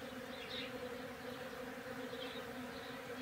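Bees buzz steadily throughout, a dense continuous drone of many insects close by, with no talk.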